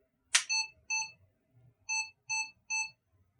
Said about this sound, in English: There's a beep.